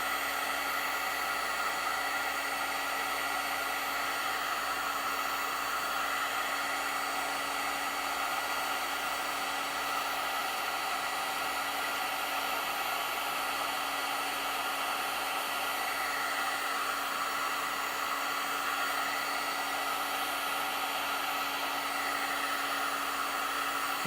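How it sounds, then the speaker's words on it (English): A heat gun blows hot air in a puppet-building workshop, a constant loud hiss and whine that stays steady and unbroken throughout, with no voices. "I assume you could hear the heat gun too."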